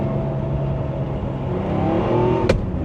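A 1975 Porsche 911 Carrera coupe with a five-speed gearbox cruises along the road, its engine holding a steady, slightly rising drone heard from inside the cabin, with a brief sharp click near the end.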